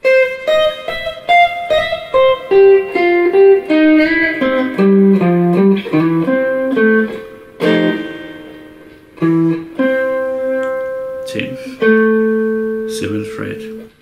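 Melodic jazzy blues guitar lick played over F changes, arpeggiated single notes ringing cleanly in a flowing phrase, close and alone with no talking.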